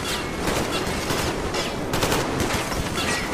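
Rapid automatic gunfire in a firefight from the video game Metro Exodus, a dense sustained burst of overlapping shots continuing loudly throughout.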